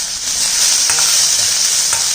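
Chopped bell pepper and onion sizzle steadily in a hot pan. A utensil stirs them with a few soft scraping strokes, and no one speaks.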